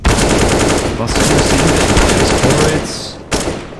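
Rapid gunfire in a competitive video game match, a dense run of loud, close shots rattling almost continuously for about three seconds, then a single sharp report after a short break.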